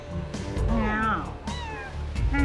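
Cat meowing several times, with short rising and falling cries that are close and fairly clear over a soft background.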